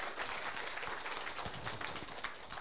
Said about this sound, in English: And a round of applause for Dr.